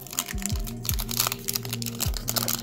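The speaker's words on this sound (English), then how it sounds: "I can't even open this thing" A foil trading card pack of vintage Japanese cards is torn open by hand without scissors: close, crisp crinkling and ripping in quick, irregular bursts over a steady background hum.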